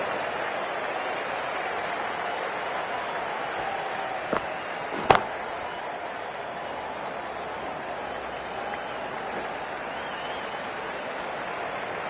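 A steady wash of crowd roar and cheering fills a cricket video game match between India and Australia, constant and broad, with a couple of sharp knocks partway through.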